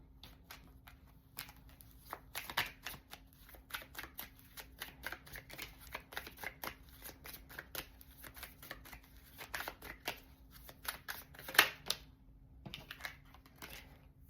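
Oracle cards being shuffled by hand for a tarot reading, a steady run of quick papery riffles and soft flicks close to the mic, with no talking over them.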